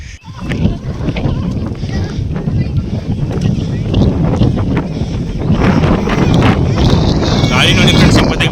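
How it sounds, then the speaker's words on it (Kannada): Strong wind buffets the microphone on a rocky hilltop trek near Bengaluru, a loud rushing roar that builds steadily throughout, with people talking over it. "ಗಾಳಿ ನೋಡಿ ಫ್ರೆಂಡ್ಸ್, ಮತ್ತೆ ಗಾಳಿ"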